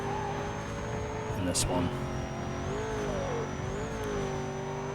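A Lotus Elise, Mercedes SL55 and Porsche Carrera GT race in Need for Speed: Most Wanted 2005 on PS2, engines droning steadily with gliding revs and a brief sharp burst, while someone talks over the sound.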